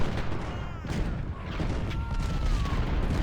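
Battlefield cannon fire from 10-pounder guns in the Ultimate General Civil War game, a dense, continuous rumble of booms and volleys mixed with faint tonal game sounds, steady and moderately loud throughout.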